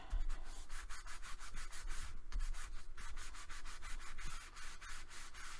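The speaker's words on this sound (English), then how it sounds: "And then I'm going to tuck that underneath and burnish." Paper on a handmade mini album being burnished, a steady close rubbing and scraping that runs the whole time with rhythmic strokes and no talking.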